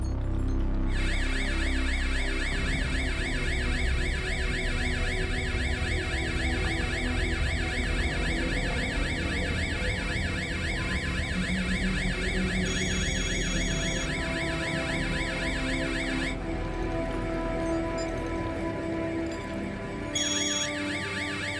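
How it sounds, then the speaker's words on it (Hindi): A fire alarm rings steadily inside a room of a building, a loud, continuous electronic tone with pulsing harmonics that holds for about twenty seconds, briefly changing pattern near the end. "आपके कमरे से फायर अलार्म की आवाज आ रही है।"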